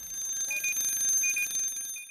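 A self-contained breathing apparatus low-pressure alarm sounds as a repeated high electronic beep in short regular pulses, moderately loud over faint background noise.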